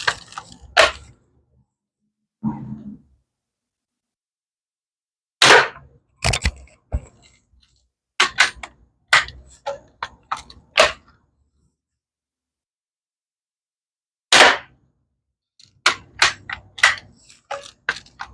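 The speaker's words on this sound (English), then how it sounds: "again we're going to do 5 shots up top from the 840" Five shots from an 840 BB gun striking a target at five yards, sharp isolated cracks in uneven bursts separated by silent gaps, loud and close with no talking.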